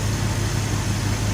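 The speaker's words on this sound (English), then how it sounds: "Now currently, the engine is idling at about" 1969 Shelby 428 Cobra Jet V8 idling at about 720 RPM, a steady, close, loud rumble with a low, even hum underneath and no voices.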